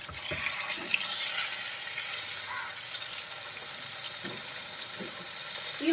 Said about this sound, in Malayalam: ഈ വശവും കൂടി നന്നായിട്ടൊന്ന് പൊരിച്ചെടുക്കാം.